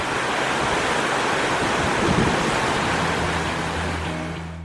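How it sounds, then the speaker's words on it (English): Steady wash of lake waves lapping on the shore of North Manitou Island, mixed with a breeze buffeting the microphone. The rushing surf stays loud and continuous, with no voices. "looking at those waves, hearing the waves, and the breeze was just phenomenal"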